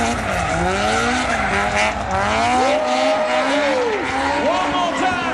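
A 260-horsepower Toyota AE86 drifts close behind a Toyota Supra on a drift track at a Paris tuning show. The engines rev and wail over loud squealing tires, the pitch rising and falling. A commentator talks over the cars.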